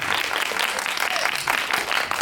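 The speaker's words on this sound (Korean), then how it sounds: "박수 한번 부탁드릴게요." The audience at a special film screening and guest talk event claps together in a brief burst of dense, close applause with slight swells.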